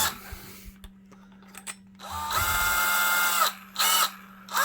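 A few clicks and taps, then a Milwaukee electric drill fitted with a hole saw mandrel whirs loudly at high speed for about two seconds, stops, and briefly spins up again.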